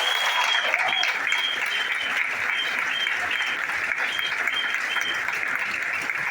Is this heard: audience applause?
yes